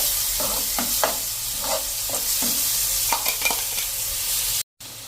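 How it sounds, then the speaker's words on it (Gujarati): A chutney paste roasts in hot oil in a pan over a medium flame, sizzling steadily up close while a spatula scrapes and stirs in short strokes, then cuts off briefly at the end. "અને એને એકદમ સરસ આપણે તેલમાં રોસ્ટ કરી લેશું."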